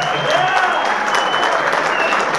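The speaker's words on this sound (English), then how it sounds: "Just give him a big round of applause for another one." Audience applauding at a live country music concert, a dense burst of clapping that holds steady and loud throughout.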